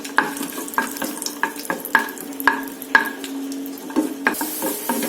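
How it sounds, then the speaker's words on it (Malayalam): Raisins (kismis) stirred and frying in a pan with a steady sizzle, broken by regular scraping strokes of the spoon about twice a second. "നമുക്ക് ഈ പാനിലേക്ക് കിസ്മിസ് ആഡ് ചെയ്യാം"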